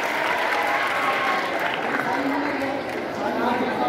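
Audience applause at a school speech competition prize announcement, a steady dense clapping wash lasting throughout, fairly loud and continuous with crowd noise mixed in.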